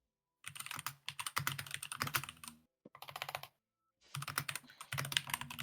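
Aggressive, rapid typing on a computer keyboard, dense clattering keystrokes in several bursts separated by short pauses, fairly close and moderately loud, with no voices.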